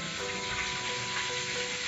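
Tempeh fries in a pan in a remote village kitchen, a steady close hiss of sizzling oil that holds at an even level throughout.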